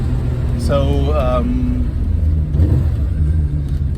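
BMW E30 fitted with an M3 engine and a 7-speed DCT gearbox, heard from inside as a steady engine rumble and rising revs under loud talk, with a short swell of harmonic engine whine near the start.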